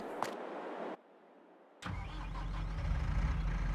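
A tractor engine in Farming Simulator 22 cranks and starts after a short silence, then settles into a low, steady rumbling idle that grows slightly louder.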